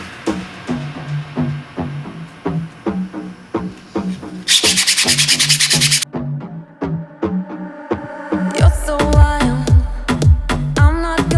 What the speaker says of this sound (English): So I've been sanding the Fender by hand and I cannot do it anymore.